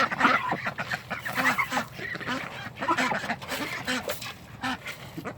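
Hungry homestead ducks quack and honk in a busy, overlapping chorus nearby, loud and continuous with no pause.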